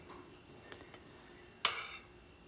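A metal spoon clinks once against a dish while red-eye gravy is spooned over a biscuit, a short bright tap after a few faint scrapes in a quiet kitchen.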